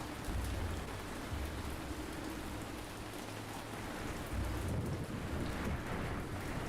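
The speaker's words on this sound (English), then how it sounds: "The world's loudest rain sounds." Heavy rain pours in the Ancient Cities video game, a dense continuous hiss with low rolling thunder rumbling underneath in two swells, steady and enveloping.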